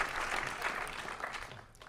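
A partial crowd claps in a theater during an onstage conversation, a modest, fairly quiet patter of hands that thins out toward the end.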